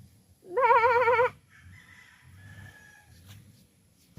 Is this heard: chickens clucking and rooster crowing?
yes